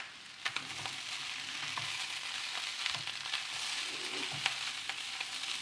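Homestyle Chinese fried rice stir-fried in a hot pan: a continuous, close sizzle with scraping and tossing as it is stirred, and no talking.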